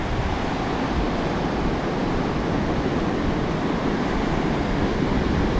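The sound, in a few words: ocean waves breaking on the beach at La Push, Washington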